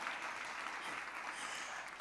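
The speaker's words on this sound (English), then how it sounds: "you can give that an applause" Faint, steady audience applause at a Forbes Woman Africa conversation event, a soft continuous patter of clapping lasting about two seconds.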